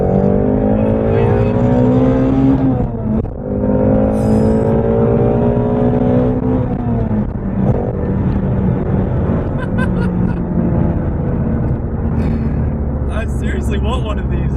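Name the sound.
Ford Mustang Shelby GT350 accelerating hard in a roll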